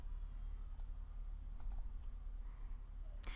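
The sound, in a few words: computer mouse clicking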